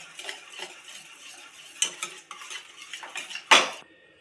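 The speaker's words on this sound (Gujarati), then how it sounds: "આપણે આવી રીતે હલાવતા રહેવું એટલે સહેજે ગાંઠો ન પડે" A utensil stirs gulab jamun mixture in a metal pan, making close, repeated scraping and clinking strokes with one sharper knock near the end.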